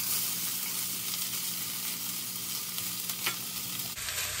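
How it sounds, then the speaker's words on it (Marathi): Chopped onion and ground garlic sauté with curry leaves in a hot pan, giving a steady, close sizzle with light stirring throughout before the sound cuts off abruptly at the end. "आता कांदा चांगला परततोय"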